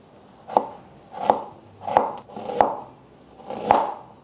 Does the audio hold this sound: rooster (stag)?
no